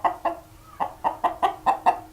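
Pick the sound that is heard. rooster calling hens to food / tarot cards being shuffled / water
rooster calling hens to food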